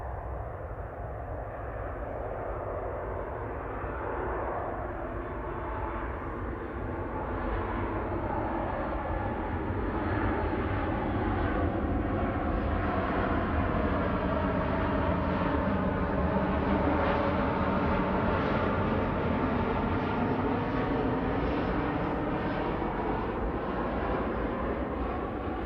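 A TUI Boeing 737 MAX 8 arrives at Manchester Airport, positioning in from Nottingham East Midlands, its jet roar steady and gradually swelling, with shifting whine tones through the middle and no speech.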